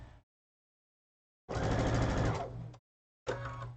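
A sewing machine stitches a nesting seam in short, separate bursts: a brief run, a pause, a longer steady whirring run, then another short burst. It is close and clear, with silence between the bursts.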